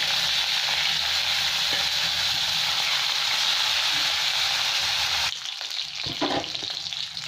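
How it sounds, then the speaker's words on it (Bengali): Rohu fish pieces rubbed with salt and turmeric fry in oil in a pan, giving a steady, dense, close sizzle with no talk, which drops quieter near the end. "আমার মাছগুলো ভাজা হয়ে গেছে লাল লাল করে"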